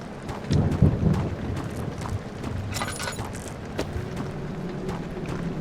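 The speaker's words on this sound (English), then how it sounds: "I love that it's raining, by the way." Steady rain falls with low thunder rumbles in a horror video game custom story, a continuous wash of ambience with a louder rumble near the start and faint mechanical creaks.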